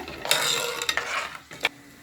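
A utensil stirs through a thick egg paniyaram curry masala in a pot, with scraping strokes and a few sharper clinks against the side, close and fairly quiet.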